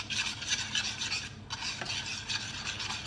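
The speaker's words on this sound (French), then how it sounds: "Et on mélange pour y venir faire fondre la gélatine dedans." A spoon stirs gelatin into warm strawberry syrup in a bowl, making a steady scraping, rasping swirl with a short pause midway, close and fairly quiet with no talking.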